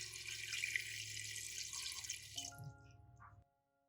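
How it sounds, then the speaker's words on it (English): Water runs steadily from a tap and splashes into a pot holding watermelon rind pieces for about three seconds, then cuts off, leaving brief drips and a faint hum. "Add just enough water."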